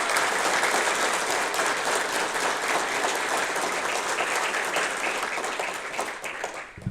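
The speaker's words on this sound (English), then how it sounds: "I would like to give a big round of applause to Mayor Smith, your council, and your senior staff" Crowd applause at a Wasaga Beach government funding event, a broad, even wash of many hands clapping at a moderate distance that tapers off at the end.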